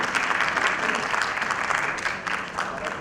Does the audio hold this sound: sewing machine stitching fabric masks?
no